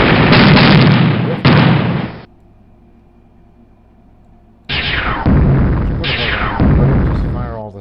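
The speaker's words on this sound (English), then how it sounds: "Just fire all the shots." In the 1998 video game Junior Spacewar, shots slam into armor as loud blasting bursts in two separate volleys with a brief quiet gap between them.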